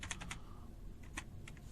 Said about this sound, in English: my typing sometimes terrible